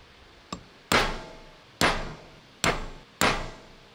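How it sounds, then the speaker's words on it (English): A chisel is hammered to peen over the groove holding a retaining wire on a restored 1943 StuG III ZF gearbox, with one light tap followed by four loud, ringing metal strikes spaced about a second apart. "To stop the wire coming out, the groove that it's seated in is peened over with a chisel."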